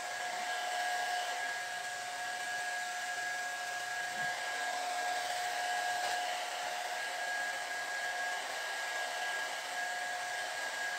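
A hair dryer runs steadily while drying freshly washed, shampooed and conditioned hair, giving a constant close whooshing blow with a faint whine and no pauses or speech throughout.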